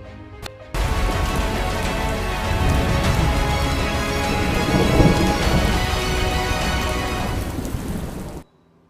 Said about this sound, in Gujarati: મેઘો અહીં વરસ્યો છે મુશળધાર